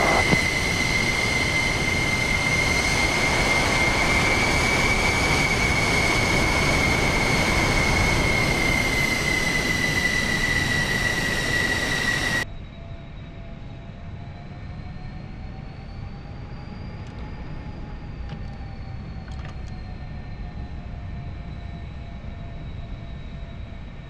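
A military fighter jet takes off from runway 3 right, a loud steady engine roar with a high whine that drops to a quieter cockpit hum about halfway through.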